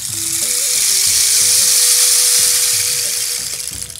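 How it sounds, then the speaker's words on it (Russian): A rainstick gives a continuous rushing, hissing shower of tiny grains that swells and then eases, like rain pattering, with faint tonal hum underneath. "По-русски это просто палка дождя."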